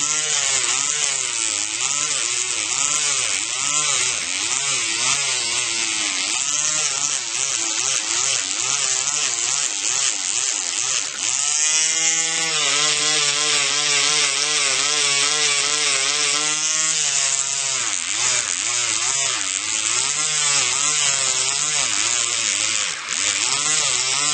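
A high-pitched electric nail drill whirs steadily throughout, its pitch shifting as it buffs the shine off an acrylic nail surface, with no talking.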